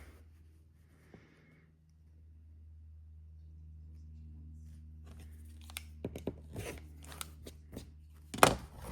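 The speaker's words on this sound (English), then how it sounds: "Trim that up real quick." Quilt block being trimmed, probably with a rotary cutter, after faint handling noise: a few sharp cutting and crunching strokes near the end, with one loud close rasp, over a low steady hum.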